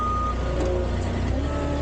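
A forklift's reversing alarm beeps steadily and loudly while backing up at a brace pickup in Sylmar, California, with a truck engine rumbling close by underneath.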